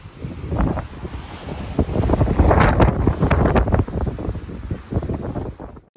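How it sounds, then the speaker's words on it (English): Strong wind buffets the microphone on the open deck of the Queen Mary 2 at sea, gusting loudly and continuously with rushing air and wave noise, no talking. "it's a bit windy."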